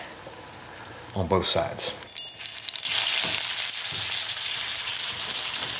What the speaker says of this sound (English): I just want to give it kind of a crusty fry